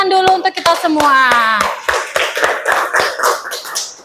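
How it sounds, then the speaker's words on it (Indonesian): A classroom of students claps their hands together, giving a steady run of sharp, evenly spaced claps. A voice talks over the first part, then the clapping carries on alone. "Beri tepuk tangan dulu untuk kita semua."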